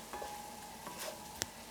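Masala of ginger, garlic and chili fries softly in a pan, a low steady sizzle with a few faint stirring scrapes and one sharp clink of a utensil, no voices.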